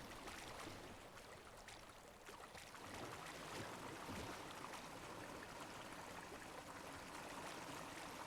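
Water pours steadily into a street-level drain during a hillside flood in the video game Drain Sim, a continuous, faint rushing stream that runs unbroken for several seconds.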